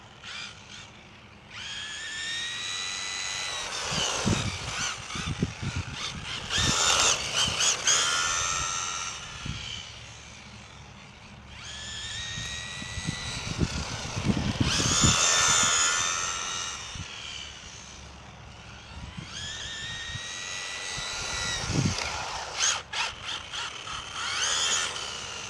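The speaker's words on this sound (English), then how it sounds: "It came with enough battery charge on it, guys, that Marty's able to give it a little test spin" A Losi 22S RC sprint car's electric motor whines in three rising and falling bursts as it runs outdoors, with gritty wheel and mechanical noise between the surges and no voices.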